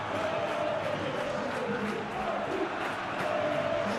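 Stadium crowd in PES 2021 during a Real Madrid match, a steady dense roar of applause and cheering throughout, with commentary over it.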